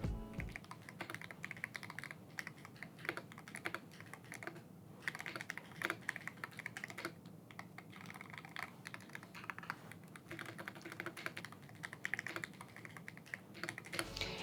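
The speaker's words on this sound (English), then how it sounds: "I think we should give it a little bit of a type test to see how it sounds." Steady, continuous typing on a Sony INZONE KBD-H75 Hall effect gaming keyboard with gasket mounting, dense, rapid keystrokes, close and clear, running throughout with no talking.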